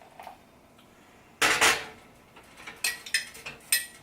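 A spoon clinks against a cup while stirring milk, giving one louder burst of scraping then several short, light taps in an irregular rhythm, close and alone in a quiet room.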